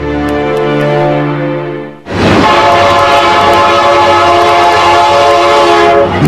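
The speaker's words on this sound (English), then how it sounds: "Today's giant locomotives are the latest muscle machines to power the railroad industry." A giant modern railroad locomotive blasts its loud, sustained multi-tone horn, which briefly drops off and then returns as a steady roaring blare over heavy engine rumble, close and powerful.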